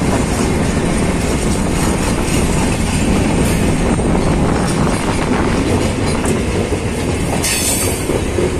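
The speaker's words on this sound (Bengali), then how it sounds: "ঘন্টিগড় ক্রস করছে ট্রেন।" A passenger train rumbles steadily past Ghantighar in Dhaka, with loud continuous wheel and carriage noise, some clickety-clack and brief wheel squeal, heard close with no talking.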